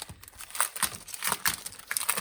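Plastic wrapping on a pack of scrapbooking paper crinkling as it is opened, a run of close, irregular crackles and rustles at low volume.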